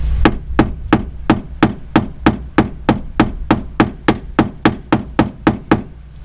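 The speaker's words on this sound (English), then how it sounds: "I'm gonna take this hammer with the point, knock this high spot down" Pointed body hammer knocking down a high spot on the body panel of a Box Chevy Caprice LS, a steady series of about sixteen sharp metallic taps, evenly spaced and close.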